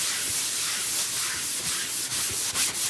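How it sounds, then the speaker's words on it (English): Paper towel rubs and buffs wax onto a sanded craft surface, making a steady, loud, close swishing friction noise that carries on without pause. "See, now I can really feel it gets easier to wax or to buff."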